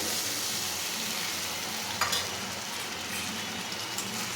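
Spice paste for a paneer curry sizzles and fries steadily in a pan while washing water is poured in, a continuous close hiss with a brief splash partway through.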